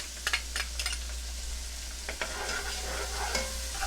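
Bacon and onion sizzle and crackle in a hot pan, with a few sharp scraping stirs near the start and again midway.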